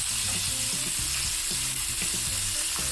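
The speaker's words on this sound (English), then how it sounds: "I guess I probably need to side sear some of these as well." Pork chops searing in a hot pan, a steady bright sizzle with rhythmic spattering pops underneath, close and constant with no voices.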